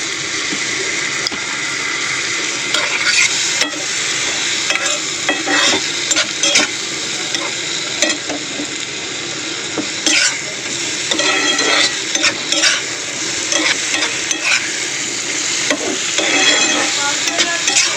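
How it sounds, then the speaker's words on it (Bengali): Spice paste with onion, tomato and small fish being stirred and fried in a pan: loud continuous sizzling with frequent scraping strokes of a spatula in an uneven rhythm, close up and without speech. "একটু জল দিয়ে মশলাটা কষিয়ে মাছটা দিয়ে দেবো"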